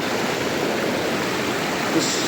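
Flowing stream water rushes in a steady, loud, close-up wash while someone wades through it, with no distinct splashes standing out and no talking.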